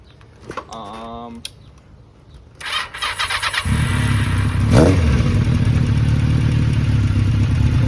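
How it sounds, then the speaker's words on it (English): A 1995 Honda Nighthawk 750 motorcycle engine cranks with a rapid clattering starter, then catches and settles into a loud, steady idle rumble that continues to the end. "I'm gonna start it up, let this run"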